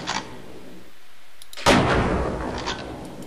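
Gunfire from a sniper rifle on a target range in the video game Opposing Force: a faint shot at the start, a short gap, then one loud, sharp report that rings out and decays over the next second and a half.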